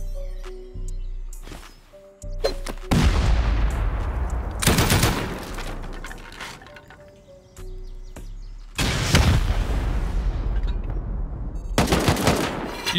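Automatic turret fire in a video game, loud rapid bursts of gunfire in several long volleys separated by short pauses, close and harsh, with no voices over it.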